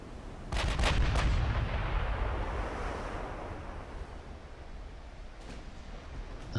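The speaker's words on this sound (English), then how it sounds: "I think she's firing at that cruiser." Heavy naval gunfire from a battleship shooting at a cruiser in the Ultimate Admiral: Dreadnoughts game: a quick cluster of booming shots, then a long rolling rumble that fades out, with one more distant shot near the end.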